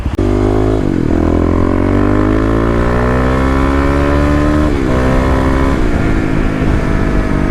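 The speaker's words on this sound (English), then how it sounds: "There's some high revving action for you guys." A Kawasaki KLX351 motorcycle engine with the secondary throttle blade removed revs hard and high, its pitch climbing steadily with a brief dip and then rising again, loud and close with no talking.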